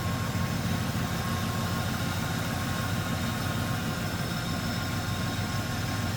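A 1996 Chevrolet Impala SS with a 5.7 liter 350 cubic inch LT1 V8 idles steadily, a constant low rumble heard close and alone throughout.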